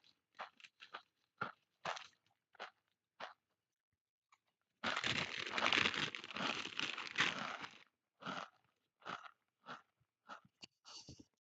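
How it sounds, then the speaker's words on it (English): Someone close to the mic eats salt and vinegar kettle-cooked potato chips, with a loud crinkling of the bag in the middle and sharp crunchy bites in a steady chewing rhythm before and after. "Got some salt and vinegar kettle chips or kettle cooked."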